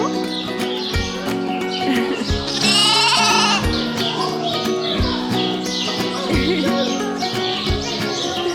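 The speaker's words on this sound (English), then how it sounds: "So behind me in this pen are these little spring lambs" Little spring lambs bleat repeatedly in a barn pen, close and loud, their cries layered over steady background music and chirping.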